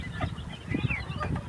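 A heavy rooster of around two to three kilograms on a chicken farm gives brief low clucking calls, close and fairly quiet against background noise.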